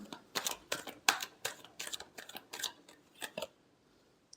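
Tarot cards shuffled by hand in a quick series of crisp riffling snaps, fairly close and quiet, fading to near silence before one last faint tick.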